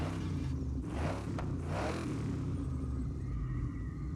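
A deep, rumbling stock V8 engine in a Chevy Nova in the video game Forza Horizon 6 idles and growls steadily up close, with a couple of brief throttle swells early on.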